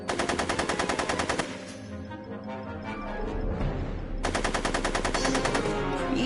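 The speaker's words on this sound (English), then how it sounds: "Are you shooting at me?" Rapid machine-gun fire in the Back to the Future video game, a loud, even rattle of shots that stops for a few seconds, leaving a low rumble, then bursts out again.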